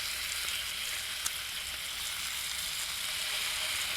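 Bacon fries in a pan at a car campsite, a close, steady, loud sizzle with dense crackling and one brief pop, no voices.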